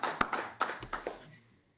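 A small TV studio crew on the TVR set applauds in a short, scattered burst of hand claps that thins out and fades to silence within two seconds.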